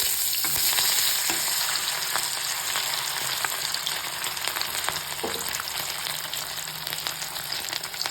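Fish sizzles and crackles in hot oil in a pan while cooking an Assamese fish curry. The spitting is dense and steady throughout, fairly close, with no voices.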